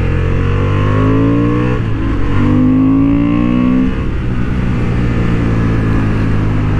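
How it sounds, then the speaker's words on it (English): A Honda Hornet 750 motorcycle engine revs loudly and climbs through the gears nearby on a racing track, its exhaust note rising in pitch and then settling into a steady drone. "the sound of the exhaust is not bad either"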